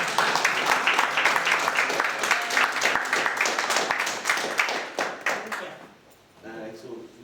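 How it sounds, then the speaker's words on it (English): Attendees at a Katrina 20 planning meeting clap together in a lively round of close, crisp applause that runs for several seconds, then tapers off and dies away near the end. "All right, go ahead on, clap that brother."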